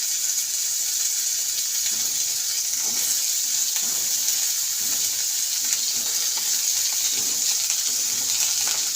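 Papaya pieces frying in a pan for a children's masoor dal soup, giving a steady close sizzle and hiss with faint stirring scrapes throughout, no voices.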